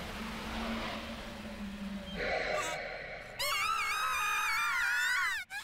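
Screams in the Nanairo Reincarnation video game, preceded by a low eerie drone and a sharp gasp-like cry, then a long, wavering, sustained shriek that cuts off near the end.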